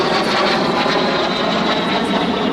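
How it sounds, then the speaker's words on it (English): Aero L-39 jet aircraft making a fast pass at an airshow, a steady loud broadband engine roar with a faint high whine, sustained and even throughout. "L-39. Picking up lots of speed."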